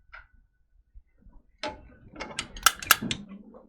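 A quick run of sharp mechanical clicks and clacks, close by, ending in a firm snap as a button-ended frame rail on an HQ Moxie 2.0 latches into place.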